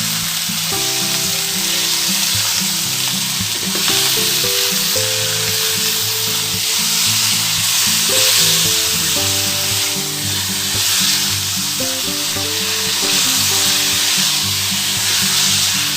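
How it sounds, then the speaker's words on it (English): Half a kilo of chunky pork cubes sautéing over a high flame as the fat renders for pork adobo: a loud, constant frying hiss that runs for the whole stretch under steady background music, with no speech. "Add 1/2 kilo pork, sliced into chunky cubes, and continue to sauté and let the fat totally render."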